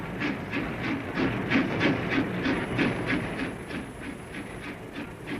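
A goods train rolls along a quiet Somerset branch line near Pill, its wagons giving a steady clickety-clack rhythm over rail joints beneath a constant hiss, at moderate distance and unaccompanied by voices.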